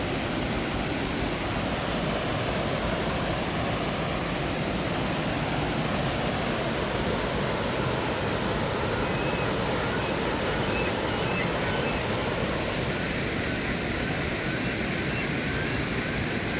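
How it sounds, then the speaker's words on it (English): Steady rushing of flowing water at Confederation Park in Gananoque, Thousand Islands, Ontario: a dense, continuous wash that fills the whole clip at an even level without breaks, close and constant. "Water sounds so peaceful and tranquil."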